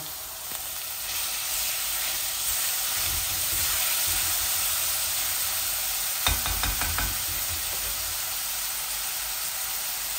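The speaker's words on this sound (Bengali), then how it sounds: "আর এখন চুরির শুটকিগুলোও দিয়ে দিচ্ছি, একসাথে ভাজা ভাজা হয়ে যাক" Dried churi fish fries with onions in a pan, giving a continuous close sizzle and hiss, with a brief burst of stirring clatter partway through.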